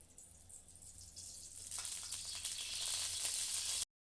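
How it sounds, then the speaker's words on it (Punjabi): Mustard oil poured into a wok (kadhai) for green chilli pickle, a quiet hiss that swells into a steady bright rush of pouring liquid before cutting off abruptly, heard alone. "ਹੁਣ ਆਪਾਂ ਇਹਨਾਂ ਨੂੰ ਪਹਿਲਾਂ ਤੇਲ ਪਾਵਾਂਗੇ ਸਰੋਂ ਦਾ ਆਪਾਂ ਕੜਾਹੀ 'ਚ"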